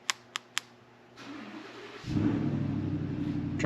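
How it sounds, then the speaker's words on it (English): A Ford F-150 pickup starts up after a few short beeps, its engine catching with a low rumble that settles into a steady idle, heard from outside the truck. "truck starts"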